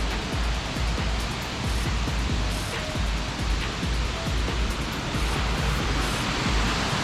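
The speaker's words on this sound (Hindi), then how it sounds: "यहाँ पर बहुत ही प्यारा वाटरफॉल बना है" Durga Dhara waterfall at Amarkantak gives off a steady, loud, broadband roar of falling water that stays even and continuous throughout, with no voices.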